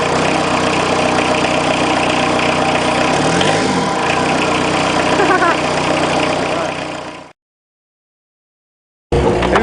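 A field car idles after a cold start, a loud, close, steady engine rumble that runs for several seconds, then cuts to silence before resuming abruptly.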